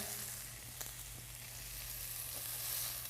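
Apple sage pork chops frying in a pan, a steady faint sizzle with a couple of small pops, close and without talk.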